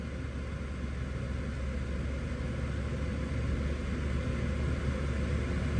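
A car engine held at about 2,000 RPM during an air-conditioning compressor check, a steady, even rumble with no change in pitch or level throughout.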